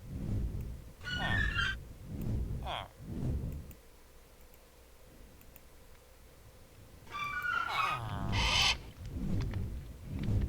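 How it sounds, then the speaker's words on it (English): Birds outside call in short bursts, some hooting and chirping, heard at a moderate distance over a quiet background with low murmuring. "Hearing those birds outside reminds me."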